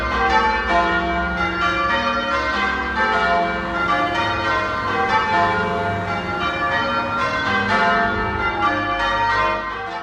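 A full peal of church bells rings continuously from the Wyke Regis parish church tower, many bells overlapping in steady, layered tumbling patterns, loud and resonant.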